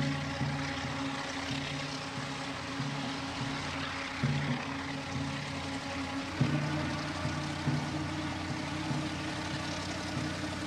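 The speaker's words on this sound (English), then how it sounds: "Is that an airplane?" A propeller airplane drones steadily overhead, a low, continuous engine hum holding at moderate loudness throughout with no voices.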